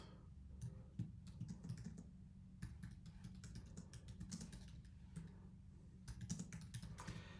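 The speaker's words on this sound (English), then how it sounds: "we can simply start typing here." Steady typing on a computer keyboard, rapid clicking keystrokes in bursts with brief pauses, close and fairly soft.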